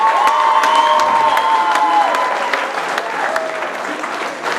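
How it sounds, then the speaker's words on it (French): Steady audience applause at a school combined-arts show, dense clapping from a crowd with a few scattered voices and cheers mixed in, holding strong for several seconds and easing slightly toward the end. "je veux vraiment qu'on les félicite et qu'on les applaudisse"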